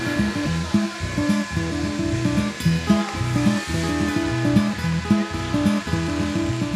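Electric shears run through an alpaca shearing session with a continuous, fairly loud motor whine and steady buzzing that pulses slightly as the blades work through fleece, with no talking.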